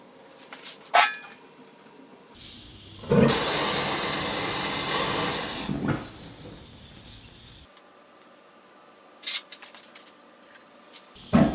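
A gas forge lined with refractory cement roars for its first firing, a loud steady rush of burning gas that runs for a few seconds and then cuts off, with a dog barking and clicks and knocks before and after.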